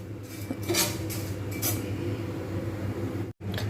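Flattened rice (chira) stirred as it fries in a pan, a steady close metallic scraping and rustle with faint clinks, continuing without pause and no speech.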